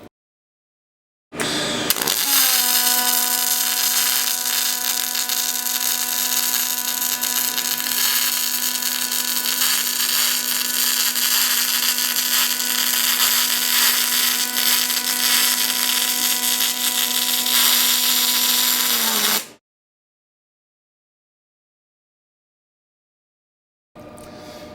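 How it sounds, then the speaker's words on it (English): A Fronius TPS/i welder running a PMC arc weld by hand, a steady, loud buzzing hiss with a fixed tonal hum that holds evenly for about eighteen seconds before cutting off into silence. "It's just to show how stable the arc is and high travel speed."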